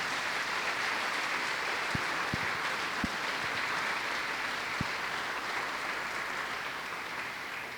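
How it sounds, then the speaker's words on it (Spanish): A church congregation applauds in a steady, fairly quiet wash of clapping that holds evenly from start to finish, with a few sharp isolated knocks standing out. "Y si lo crees, dale un fuerte aplauso a su nombre."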